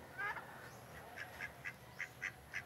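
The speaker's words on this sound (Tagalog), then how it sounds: "yung mga pato namin. Oh, may mga pato, mga turkey." Farmyard ducks kept alongside turkeys quack in a quick series of short calls, about eight rising and falling bursts, fairly near and clear over a quiet outdoor background.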